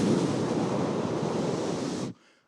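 A preacher imitates wind with his voice, a loud, steady breathy rushing hiss held for about two seconds before cutting off abruptly.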